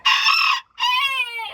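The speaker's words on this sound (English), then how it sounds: "So black one, white one, Oliver the rooster, 2 brown ones, and then Jello." A rooster in a backyard chicken enclosure crows up close: two loud, ringing phrases split by a short pause, the second drawn out and falling away.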